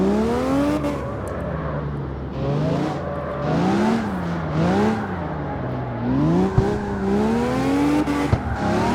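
A V12 Lamborghini drift car in CarX Street screams near and loud, its engine note rising and falling in repeated swoops as the throttle is worked through a drift, with hints of tire squeal.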